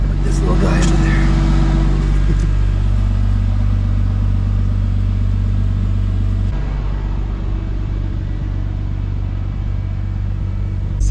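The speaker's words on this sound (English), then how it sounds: "I want to keep the car running and I don't want it to roll away." A parked Nissan Gloria's engine idles steadily with a loud, constant low rumble throughout, a voice talking briefly over it near the start.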